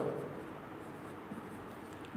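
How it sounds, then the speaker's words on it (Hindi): Marker or chalk scratching across a classroom board, with continuous soft scraping strokes and a few small taps, close and fairly quiet, no voices. "यहां पे नीचे लिख देता हूं"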